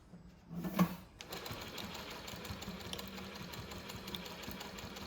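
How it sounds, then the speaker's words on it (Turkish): A Vinlex VX-1530-DD zigzag leather sewing machine stitches in a fast, steady mechanical rattle, close and continuous, after a brief louder clunk at the start. "Şu anda düz dikişte ileri geri dikiş sağlamlaştırmak için şu kola basıyoruz şöyle."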